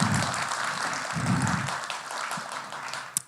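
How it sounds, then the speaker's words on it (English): Audience applause for event organizers after a dance program about violence against women, a moderate wash of clapping with some low murmuring that gradually fades, ending with a sharp knock. "Huge round of applause to all the organizers"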